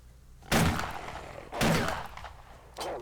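Gunfire in the survival game Subsistence: two loud, close shots a second apart, each a sharp blast with a short decaying tail, then a third fainter report near the end.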